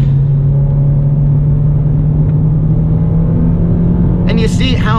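A car engine holds a steady, loud rumbling drone, hanging at revs during heel-toe rev matching, before a brief sharper burst near the end.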